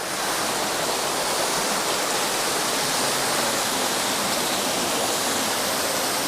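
Steady, loud roar of a waterfall, broadband rushing water that never lets up, close by and alone.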